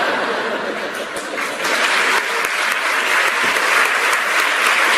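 Audience applause at an award ceremony honoring José Mujica, a loud, sustained crowd clapping that swells after the first second, with a few chuckles and laughs scattered through it.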